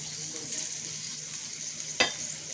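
Garlic and green chilies sautéing in oil and butter, a close, steady hiss of sizzling fat with one sharp clack of a utensil midway.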